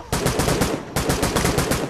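Rapid bursts of automatic gunfire from the VR shooter Pavlov, two loud volleys of evenly spaced shots, each lasting under a second, close and unaccompanied by talk.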